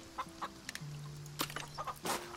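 Chickens in the farming video game Farm Together cluck in short, quiet bursts, several soft clucks and squawks in quick succession over a low steady background tone.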